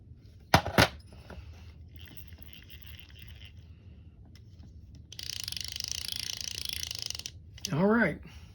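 Small screws being threaded back into a Pflueger Freespeed 1000 fishing reel, giving a couple of close clicks and metallic ticks, scattered faint rattles, then a steady scraping turn and a brief squeak near the end.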